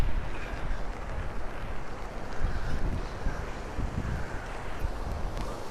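Flooded Lybid river in Kyiv rushing over its banks, a dense continuous roar of fast water and waves mixed with wind buffeting the microphone, heard close and without pause.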